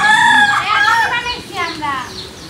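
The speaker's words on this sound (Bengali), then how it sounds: "এই যে মোরগ ডাকতেছে," A rooster crows once nearby in a village garden with jackfruit trees, a long rising and falling call, with a few softer calls trailing after it.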